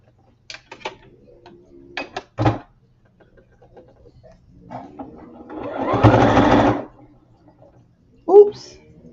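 A sewing machine stitches a seam for a few seconds in a home sewing setup, a steady mechanical whir in the middle, with scattered clicks and handling noises before and after and someone talking.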